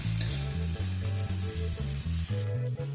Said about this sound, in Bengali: আদা রসুনটা দেওয়ার পর খানিকক্ষণ একটু নাড়াচাড়া করে নেব